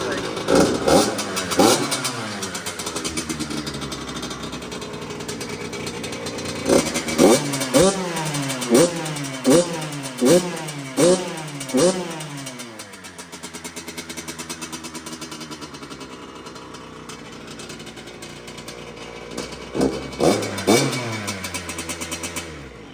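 A 2024 Yamaha R1 sport bike engine idles, then revs hard in a rapid series of rising throttle blips, settles back to a steady idle, and roars with a few more sharp revs near the end, close and loud.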